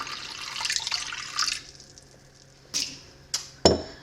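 Warm water poured into a mixing bowl while making honey whole wheat sourdough bread: a steady splashing stream for about a second and a half, then quieter, followed by a few short separate splashes and drips, close by.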